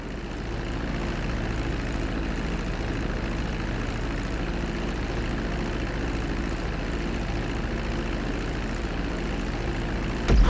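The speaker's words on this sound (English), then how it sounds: "Now let's get the plane off the runway." A propeller airplane taxis on a runway in GTA V, its engine giving a steady, even drone throughout, with no talking.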